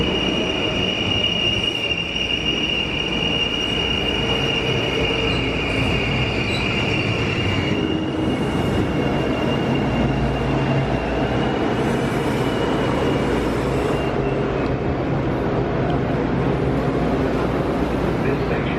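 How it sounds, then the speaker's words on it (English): A Metro-North commuter train rumbles along steadily near Stratford, Connecticut, with high metallic wheel squeal early on that drops away, heard from close by or on board. "We caught a Metro North railroad train here in Stratford."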